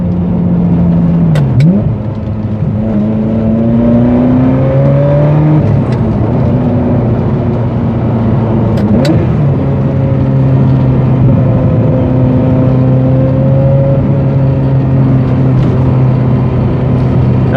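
A Ferrari 355 sports car engine drones loudly and steadily from inside while driving on the road, with the pitch climbing and then dropping at a couple of gear changes.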